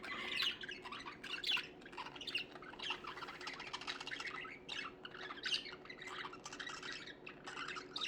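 Pet budgies chirp and squawk without pause, a close, busy stream of sharp calls and bright twitters layered over one another, with no talking.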